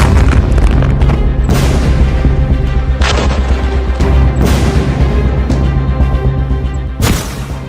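Heavy explosions in Gaza boom one after another, deep and loud, with a sharp blast near the start, more around three and four and a half seconds, and a final crack near seven seconds over a constant low rumble.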